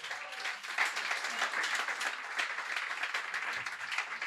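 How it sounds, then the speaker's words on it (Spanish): A church congregation claps in continuous, even applause, a faint but dense patter of many hands sustained throughout with no talking over it. "Démosle fuerte ese aplauso a la obra de nuestro gran Dios y Salvador Jesucristo."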